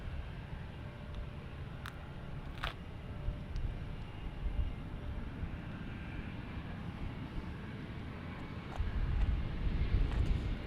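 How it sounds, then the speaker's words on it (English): Delta Airlines Airbus jet at Bergstrom International Airport, a distant broad engine roar that holds steady and swells louder toward the end, with a few faint clicks and no talk. "Delta Airlines Airbus action."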